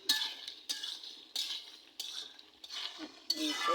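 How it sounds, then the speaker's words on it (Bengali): Bottle gourd and egg curry being stirred in a pot, a series of scraping strokes of a utensil against the pan with light clinks and faint sizzle, close up and without talking. "দেখি একটু একবার নেড়ে দিই"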